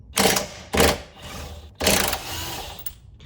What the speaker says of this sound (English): we're going to undo these two bolts that will release the differential from the cradle